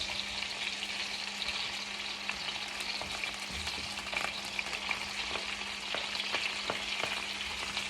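Onions fry in a pan for instant beef steak, giving a steady, close sizzle broken by occasional stirring scrapes throughout.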